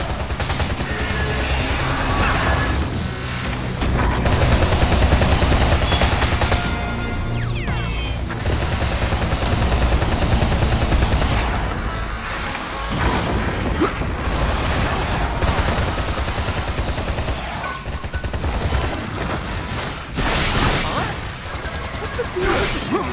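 Heavy, near-continuous gunfire from the Ex Zero video game: dense overlapping automatic bursts and impacts, loud throughout, with brief lulls and occasional whooshes between volleys.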